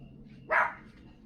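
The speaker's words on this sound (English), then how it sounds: "there's someone's dog that's barking off in the distance" A single dog bark rings out from a distance, brief and moderately loud against a quiet outdoor background with a faint low hum.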